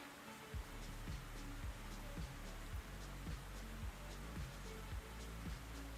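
Steady video game rain patters continuously, with regular low thumps and clicks recurring through it, a wet, even hiss that fills the whole stretch.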